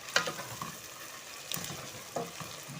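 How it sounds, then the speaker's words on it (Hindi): Onions browning in a frying pan for a mutton keema and onion karela dish give off a steady, soft sizzle, with a few brief utensil clinks and scrapes and no talking. "ये हमारे प्याज ब्राउन हो रहे हैं, आप देख सकते हैं।"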